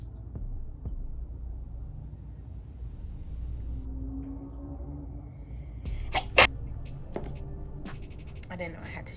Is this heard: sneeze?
yes